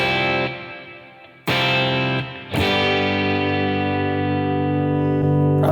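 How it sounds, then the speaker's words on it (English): Electric guitar tone run through a plate reverb on a Tonex amp modeler, struck chords ringing out with a long, lush wash of reverb tail that sustains and blooms between loud, distinct strums, with no voices. "Some reverb. It's the biggest verb they've got."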